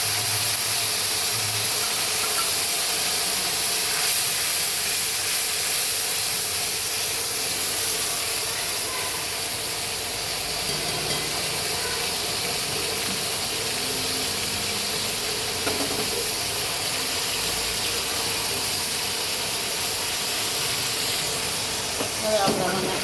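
Water splashed into a hot frying pan with chilies sends up a steady, bright steam hiss that continues evenly for the whole stretch.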